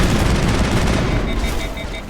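Sustained rapid gunfire from weapons in the sci-fi video game Mass Effect, a dense, loud, continuous volley that keeps up for the whole stretch, with a faint repeating high electronic beep toward the end.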